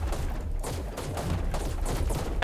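Rapid gunfire from the ARK Extinction video game, a dense fusillade of overlapping shots crackling continuously and loudly throughout, with no voices over it.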